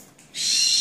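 A white-bellied caique parrot perched on a hand gives a sudden loud, high screechy call that swells and holds steady after a brief quieter start.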